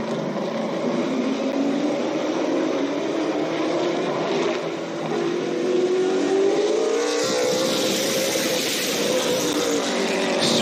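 Race cars roar around a dirt track during a B-Main heat at a memorial race, engines droning loud and continuous with rising pitch as the pack passes, then a brief shift in tone near the end.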